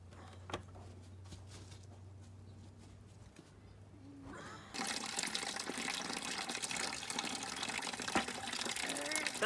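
Water gushes steadily by gravity into an automatic poultry waterer, a sudden loud broadband pour starting about halfway through after a quieter stretch with faint background hum and light handling sounds.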